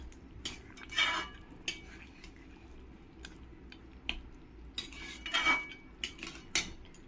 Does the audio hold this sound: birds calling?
no